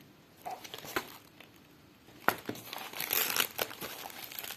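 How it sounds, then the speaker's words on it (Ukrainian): Crinkly handmade paper surprise packets are torn open and unwrapped up close, giving bursts of rustling, crumpling and tearing that grow busier and louder partway through. "Давайте швидше розпаковувати."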